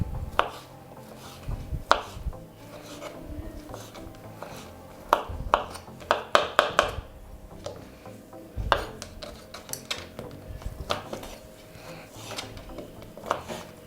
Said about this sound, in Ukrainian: нарізаємо кубиком.